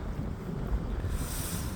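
Strong wind buffeting a microphone outdoors at a bus stop on a morning commute, a steady loud rumbling roar with gusty swells.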